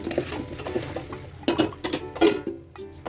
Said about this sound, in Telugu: మనము పీల్ తీసి పక్కన పెట్టుకున్న చేమదుంపల్ని కూడా వేసేసి మిక్స్ చేసేయండి